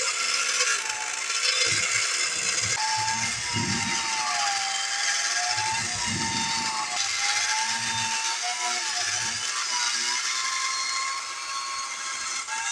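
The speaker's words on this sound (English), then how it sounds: "This is an old Sunbeam mixer." An old 1970s Sunbeam electric kitchen mixer running continuously with a high, buzzing whine and a wavering pitch, with intermittent low scraping and knocking from the beaters in the bowl, close by and without talk.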